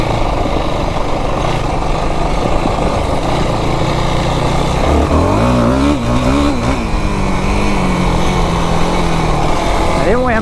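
A Yamaha YFZ 450R quad engine revving while riding, a continuous buzzing drone with quick rising and falling throttle blips, heard from the rider's position under wind noise as someone talks over it.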